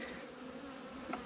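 Gentle honeybees from a swarm trap buzz steadily and close by, a continuous droning hum with a slight swell near the end and no voices.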